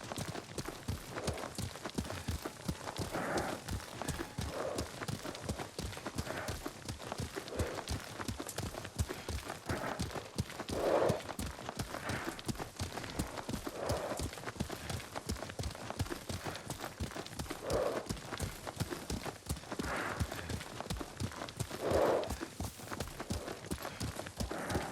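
Horse hooves clip-clopping at a steady walking rhythm while riding in Ghost of Tsushima, a continuous moderate pattern of hoofbeats with faint background ambience.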